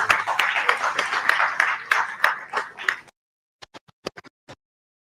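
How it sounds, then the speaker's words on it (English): An audience at the National Labour Conference 2025 applauds after the Congress president is introduced. The clapping is dense and steady for about three seconds, then thins to a few scattered, isolated claps. "Let's give you a round of applause."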